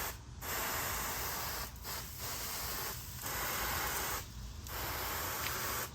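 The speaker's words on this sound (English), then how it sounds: "we're gonna go ahead and give her a spritz and close her back down" Spray bottle spritzing apple cider vinegar and apple juice onto a smoked pork shoulder, several close hissing bursts in a row, each with a short pause between.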